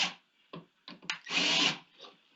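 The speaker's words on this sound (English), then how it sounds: "pilot drill" Pilot holes being drilled for the brackets of a CGS 6-way full-extension soft-close undermount drawer slide, heard as several short close power-drill bursts followed by one longer whirring run, with no talking.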